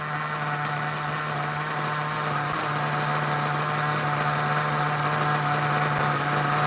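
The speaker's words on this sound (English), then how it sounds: "I love those OS speed engines," An OS Speed nitro engine in an RC car fitted with a Dynamite Platinum tuned pipe runs steadily at a high-pitched buzzing idle, continuous and moderately loud throughout, with no talk.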